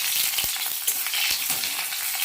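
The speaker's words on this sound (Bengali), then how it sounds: "এবার আমি পেঁয়াজ কিছুটা দিয়ে দেবো তেলের উপরে" Onion hitting hot mustard oil in a kadai sets off a steady, close sizzle. Light scraping stirs break through it now and then, with no talking.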